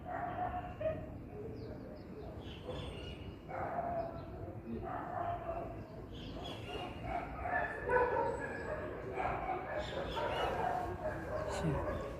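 Dogs bark and yip in scattered bursts at a distance, with birds calling and people talking nearby.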